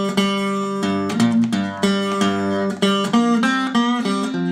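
Acoustic guitar playing a full Delta blues riff, a quick run of plucked notes and pull-offs ringing into open strings, close and steady with no voice.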